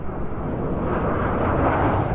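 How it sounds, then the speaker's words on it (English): Jet airliner taking off from a nearby airport, a steady loud broadband roar that holds constant and swells slightly throughout, with no voices over it. "there was a plane that just took off"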